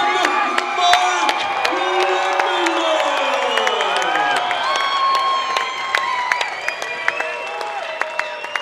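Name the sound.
crowd cheering at MMA fight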